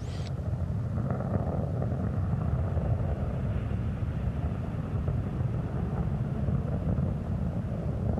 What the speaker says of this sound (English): Three engines on board the spacecraft are throttling down to 2/3 throttle to prepare the shuttle to pass through the area of maximum air pressure